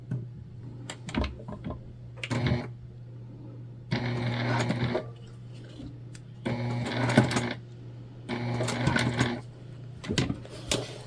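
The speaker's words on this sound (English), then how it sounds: "we're going to stitch those together" A sewing machine stitches overlapped fabric pieces for a beginner-friendly heart project, its rapid mechanical chatter coming in several short bursts separated by pauses, close and moderately loud over a steady low hum.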